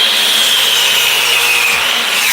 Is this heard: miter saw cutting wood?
yes